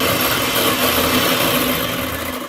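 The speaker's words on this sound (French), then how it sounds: "Le blanc d'œuf que nous allons tout de suite monter en neige au batteur" An electric mixer whips egg whites to stiff peaks, giving a loud, steady motor whir that stays constant throughout.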